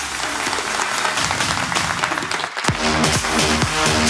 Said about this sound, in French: Et vous applaudissez par ici pour accueillir l'équipe.